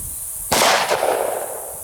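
A single sharp, loud gunshot from a 10mm Glock Gen 4 Model 20 pistol firing 200 grain Underwood jacketed hollow points, a close crack followed by a short echoing tail.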